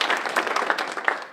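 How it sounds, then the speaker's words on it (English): A round of applause at a Washington County Chamber of Commerce breakfast event, as a crowd claps together. The clapping is steady and moderately loud, with no talking. "Let's give them a round of applause in absentia."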